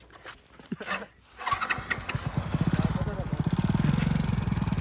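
A motorcycle engine is kicked and cranked a few times, then catches and settles into a steady, throbbing idle close by, with a voice briefly heard early on.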